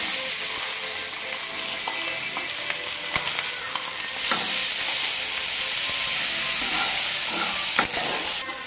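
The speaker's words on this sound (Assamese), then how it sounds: "এইবাৰ কেপচিকাম আৰু মটৰখিনি অলপ ভাজি লম।" Capsicum and peas sizzle loudly in an oiled pan, a steady hissing fry broken by scraping stirs and sharp clicks, with the sizzle swelling brighter partway through.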